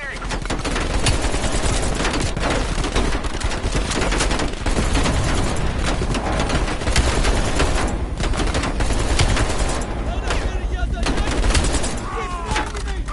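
Sustained automatic gunfire and explosive bursts from Call of Duty Cold War campaign combat, dense and loud throughout with brief gaps, a voice faintly present under the din.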